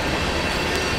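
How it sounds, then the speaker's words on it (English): A Norfolk Southern freight train led by Dash 9-40CW locomotives rolls past at close range, a loud steady roar of wheels and cars with squealing rail noise throughout. "-940 CWs on the head end of this train that's passing me, Jeff."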